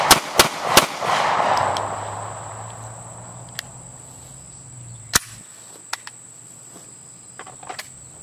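Five pistol shots from an OD green CZ P-07, sharp cracks with ringing echoes, three quick ones at the start and two more spaced out later, with no talking.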